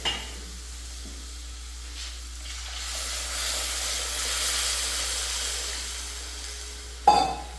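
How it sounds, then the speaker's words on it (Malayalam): Water poured into a hot frying pan while making Kottayam-style fish curry, giving a steady sizzling hiss that swells and fades, with a sharp clank of a utensil near the end. "വെള്ളം ഒഴിക്കും"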